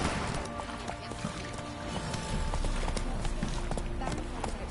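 Rhythmic hoof clip-clop of a horse galloping in a PS4 video game, steady and continuous under busy game sound and background noise, with talk partly audible.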